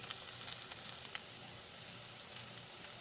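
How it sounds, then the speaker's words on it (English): Rice sautéing and browning in a pan gives a soft, steady sizzle with faint crackles, low and even throughout, with no voices. "I have sauteed and browned this rice as much as I want"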